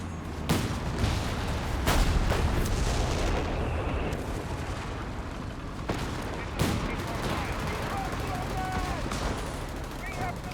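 Walking Stuka rocket artillery fires in Company of Heroes 3, a string of sharp launches and blasts cracking over a constant din of battlefield gunfire for about ten seconds.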